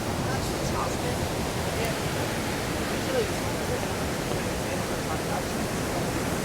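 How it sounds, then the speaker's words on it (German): The Rhine Falls waterfall in Switzerland produces a continuous broadband roar, steady and unbroken from a distance, with no voices standing out. "Da hinten ist der Wasserfall."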